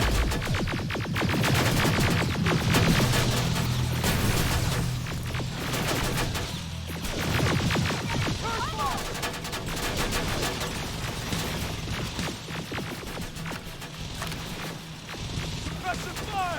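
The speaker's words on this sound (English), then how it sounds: "Suppressive fire!" Sustained gunfire in the Terminator Resistance video game: loud, rapid automatic bursts and scattered shots rattle continuously over a throbbing battle din, with shouted voices breaking in throughout.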